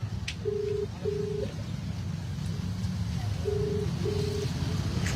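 Four short electronic tones, in two pairs, beep like phone dialing over a low rumbling background with faint wind noise.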